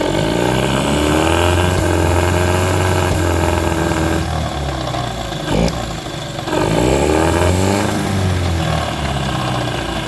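A 1995 Mercury 8 hp two-stroke outboard motor runs loud and close, its pitch climbing and dropping through repeated revs with a rough, buzzing tone, its throttle butterfly sticking.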